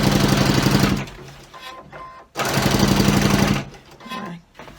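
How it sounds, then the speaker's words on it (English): A sewing machine runs in two steady bursts of rapid mechanical stitching, straight-stitching a baby quilt for beginners, with brief quieter pauses between the close, loud runs. "So as I stitch, I'm literally going to remove my pins."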